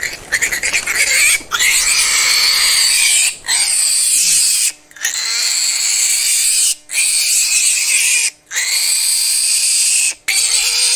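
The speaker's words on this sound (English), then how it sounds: "It was a baby pig, a female." A trapped female baby pig grunts and squeals from inside a dug trap hole on an island, loud and close, in repeated bursts separated by brief silences.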